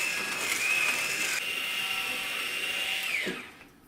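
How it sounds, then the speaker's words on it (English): MiiCoffee PT1 portable electric coffee grinder running at its finest espresso setting: a close, steady high-pitched whine with a slow motor, holding for about three seconds before winding down and stopping. "If you grind for espresso, it takes a while because the rotation speed of the motor RPM is really slow"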